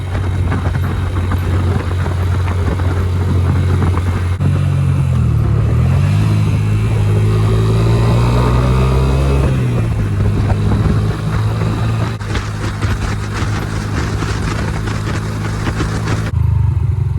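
Road traffic rolls past close by, car engines swelling and fading one after another over a continuous loud drone with no talking.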